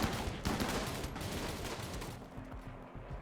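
Massed gunfire in a Rimworld battle crackles in a dense, continuous stream of overlapping shots, steady and fairly quiet throughout.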